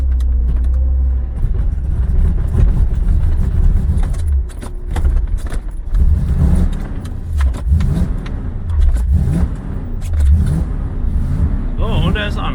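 A Corvette being tow-started with a rope behind a hauler gives a low rumbling engine and road drone with rising and falling revs, steady and close, while a voice speaks over the vehicle noise.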